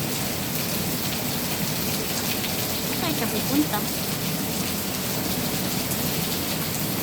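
Heavy rain pouring down in a steady, dense hiss and patter that fills the whole stretch, with a brief voice speaking over it midway.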